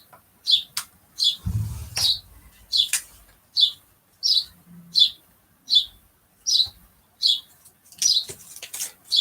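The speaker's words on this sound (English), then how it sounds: "I don't know if you can hear the birds tweeting" Outdoor birds in spring chirp repeatedly in a steady rhythm of about a dozen bright, short tweets, fairly close and clear, with a brief low thump partway through.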